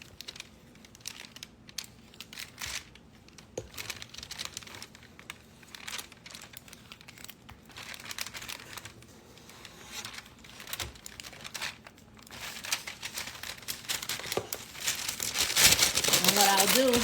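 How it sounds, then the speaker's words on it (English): Parchment paper crinkles and rustles close up as chocolate chip cookie dough is wrapped and rolled into a log, a scattered crackling that grows louder and denser toward the end, with someone talking throughout. "take some of the cookie dough here, put it in parchment paper"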